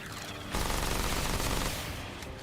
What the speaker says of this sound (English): I love the SMG.